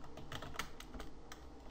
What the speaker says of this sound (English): My microphone's in front of my keyboard. It's a little hard to type.